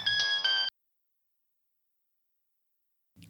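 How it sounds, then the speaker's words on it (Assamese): A phone ringtone sounds for an incoming call: a bright, loud melodic burst of two quick phrases that stops abruptly, followed by silence. "শ্ৰুতিয়ে ফোন কৰিছে।"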